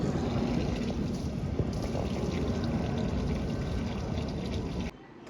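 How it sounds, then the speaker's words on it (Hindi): Water pouring steadily onto potted plants during a household watering routine, a continuous splashing gush that runs without a break for several seconds and then cuts off abruptly near the end. "दे पहले पानी दें सबको, इनको प्लांट्स को"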